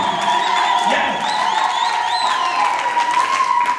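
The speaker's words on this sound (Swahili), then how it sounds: "Piga makofi kwa ajili ya kina mama wazuri." A church congregation applauds and cheers for the women, a steady wash of clapping mixed with shouts and whoops over a sustained tone, loud and continuous throughout.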